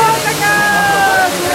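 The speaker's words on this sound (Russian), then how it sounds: "падающая с гор вода напоминает струйки молока" Water roars down from the mountains at Dudhsagar waterfall in Goa, a steady broad rush under a voice talking, with a faint high tone running through.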